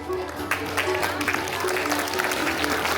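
Audience applause at a school Founders Day celebration, dense steady clapping from a crowd with a voice and faint hum underneath.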